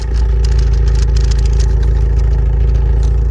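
A car engine idles steadily with a constant low rumble and faint clatter, close by and loud throughout, with no other sounds.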